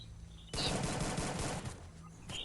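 Gunfire in Free Fire, a loud sustained burst of rapid automatic shots lasting over a second, with a brief gap and another shot at the end.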